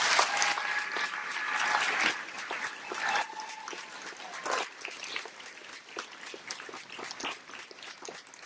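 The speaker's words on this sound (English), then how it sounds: "Please join me in giving Galen a round of applause" A high school graduation audience in a hall applauds for a student, sustained dense clapping that swells early, then slowly thins and tapers off.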